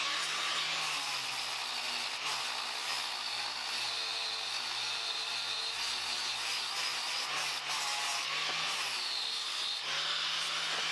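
A sanding disc grinds against a cracked cast aluminium starter snout in a steady, unbroken rasping hiss that stays loud and close throughout, with slight shifts in pitch as the pressure changes.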